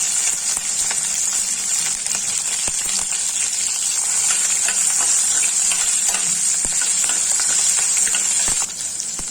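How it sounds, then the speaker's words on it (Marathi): Green chillies sizzling in hot oil with urad dal, curry leaves and mustard seeds, a steady loud frying hiss with scattered crackles and occasional stirring clinks throughout. "आता ह्यामध्ये आपण मिरच्या घालणार आहोत"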